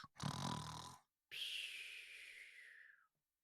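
A voice imitates snoring: a rattling inhaled snore followed by a long, breathy, whistling exhale, close and clear.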